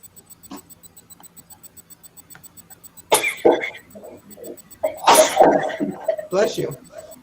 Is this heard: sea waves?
no